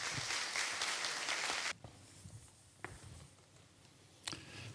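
An indoor lecture audience applauds for a speaker, a dense burst of clapping that stops abruptly after under two seconds. A few scattered claps and soft room noises follow in the quiet.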